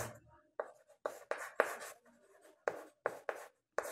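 Chalk or marker strokes on a board during a class 5 math lesson, a quick series of short scratchy bursts with brief pauses between, close and clear, with no voice.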